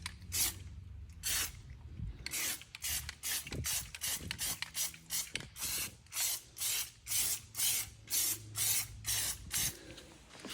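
Repeated short bursts of aerosol spray paint hiss out in steady passes as a light, thin coat is applied to a Ski-Doo Backcountry 850 snowmobile rim, close and loud with brief pauses between strokes.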